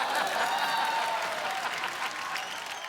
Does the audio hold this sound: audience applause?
yes